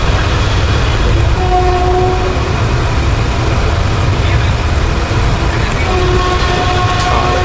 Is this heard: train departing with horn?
yes